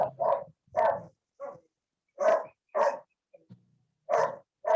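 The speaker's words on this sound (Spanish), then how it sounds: "Perro." A dog barks in a series of sharp, loud, close barks, about eight of them in irregular bursts with short silences between, plus one or two softer yips.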